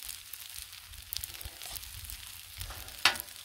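Two eggs frying on a Blackstone griddle, a faint steady sizzle with soft crackles and a brief sharp scrape or tap near the end.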